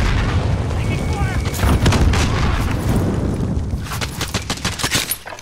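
Heavy gunfire and explosions in a multiplayer shooter game crackle in dense, rapid bursts and booming blasts that fade into scattered single shots, with players' voices talking over the fighting.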